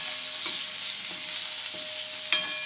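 Tomato sambar ingredients sautéing in hot oil in a pan, a steady bright sizzle with a few soft stirring scrapes and one sharper clink near the end, no talking.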